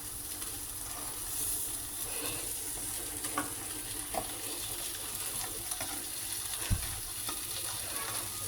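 Boiled eggs fry in a pan with a soft, steady sizzle and hiss, turned over with a knife that gives a few faint scrapes and one clearer knock.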